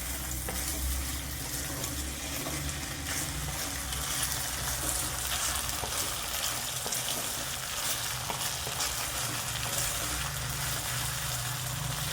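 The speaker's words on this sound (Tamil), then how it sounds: "இப்போ பாருங்கள், உருளைக்கிழங்கு இந்த எண்ணெயில் கொஞ்சம் நல்லா ஃப்ரை ஆகிருக்குங்க" Potatoes fry in hot oil, giving off a continuous, even crackle and sizzle that stays close and steady with no voices.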